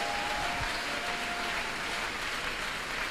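A church congregation claps in a dense, continuous burst of applause that stays at full, even loudness throughout, with no voices standing out.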